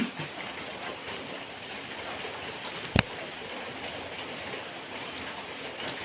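Steady rain falls outdoors as an even, soft hiss, broken by one sharp click midway, with no one speaking.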